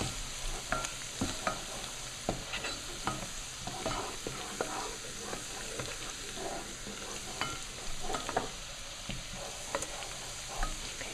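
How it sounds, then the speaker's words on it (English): Food sautéing in a pan, a steady close sizzle with frequent light scrapes and taps of a stirring utensil throughout, no voices. "Let that saute for a second or two."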